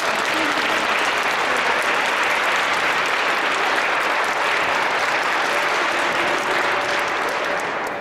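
A large concert audience in a cathedral gives loud, sustained applause, a dense, steady roar of clapping from many hands that holds throughout and eases slightly at the end.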